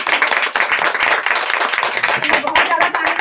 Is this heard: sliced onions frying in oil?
no